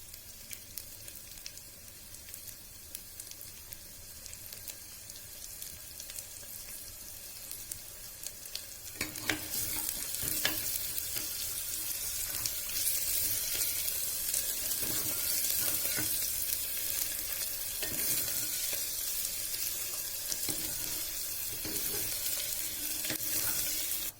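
Onions frying in a pan for okra tamarind curry, with fenugreek seeds in the oil: a steady low sizzle that swells louder after a few seconds, broken by scattered stirring clicks and scrapes, and no voices.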